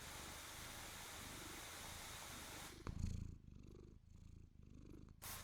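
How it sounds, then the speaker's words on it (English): A cat purring close to the microphone, first a soft steady hum under background noise, then clear rhythmic rumbling purr cycles rising and falling with each breath. "Everybody must be blessed by the purring."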